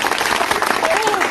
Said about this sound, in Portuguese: uma salva de palmas para o nosso irmão Wesley